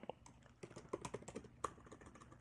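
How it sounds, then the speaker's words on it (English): Typing on a computer keyboard, a quick irregular run of clicking keystrokes at close range, fairly quiet and heard alone. "type it out exactly as it appears in Adobe Stock"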